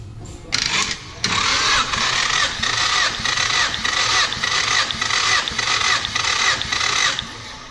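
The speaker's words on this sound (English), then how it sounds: "And all you do is bridge the starter signal and power together to crank the motor." An engine cranked over by bridging the starter signal and power during a compression test, starting with a brief burst and then a loud, steady, rhythmic cranking churn that runs on continuously.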